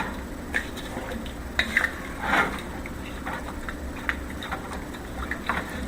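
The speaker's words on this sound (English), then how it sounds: "Give that a good stir." A spoon stirs beef stew in a pot, giving soft intermittent scrapes and clinks against the metal over low kitchen hum, with no talking.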